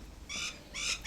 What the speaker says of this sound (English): I felt at peace listening to the frogs croak and the birds sing.